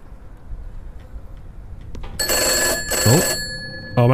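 A telephone in a horror video game bursts into a loud, shrill ring after a quiet stretch of faint ticking, the ring cutting off and starting again at the end.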